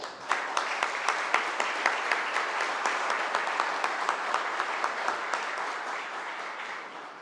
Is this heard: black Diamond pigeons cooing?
no